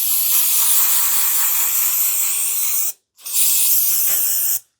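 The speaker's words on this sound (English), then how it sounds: "bit of brake cleaner" Brake cleaner sprayed onto a new, factory-oiled Febi brake disc on a Range Rover L405/L494 rear axle: a loud, steady hissing burst of about three seconds, a short pause, then a second shorter burst, close up with no talk.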